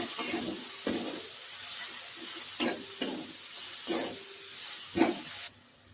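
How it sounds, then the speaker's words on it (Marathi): Finely chopped fenugreek leaves fry in oil with coriander powder, giving a steady close sizzle broken by regular scraping stirs of a spoon against the pan. "हे बघा, आपली मेथी छान अशी तेलामध्ये परतली आहे."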